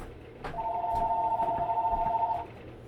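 Telephone ringing indoors in a home sewing room, a sustained two-tone electronic trill lasting about two seconds, clear and fairly close, with light room noise around it.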